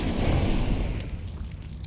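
An incendiary fire grenade in Counter-Strike 2 bursts and burns with a loud, rushing crackle that gradually thins out over two seconds, with no voices over it.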